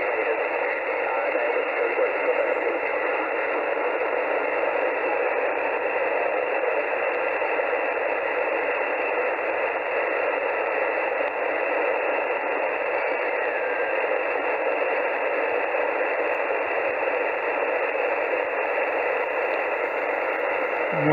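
A Xiegu G90 receiver tuned to the noisy 40-metre HF band hisses with steady, loud band-limited static throughout, with no clear signal emerging.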